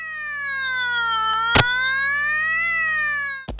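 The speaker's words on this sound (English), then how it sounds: "this siren makes you want to rip your ears out" Shrill electronic siren from the Home Alone game on Sega Genesis, a loud synthesized wail of stacked tones slowly bending in pitch, broken by a short burst of noise midway and a clipped new tone at the end.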